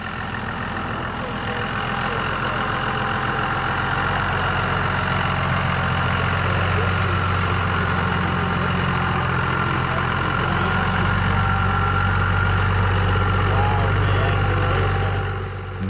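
Truck engine idling at a hunting site, a steady low rumble that holds loud and even for the whole stretch, with faint voices underneath and a slight rise in level toward the end.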